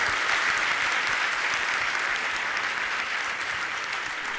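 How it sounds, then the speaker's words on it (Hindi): A large audience at a religious discourse by a Jain monk claps in a continuous, even burst, dense and close, holding steady with only a slight fade near the end. "एक बार तालियां तो बजा दो इन लोगों के लिए"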